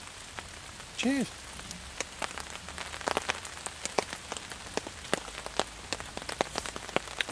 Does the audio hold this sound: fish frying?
no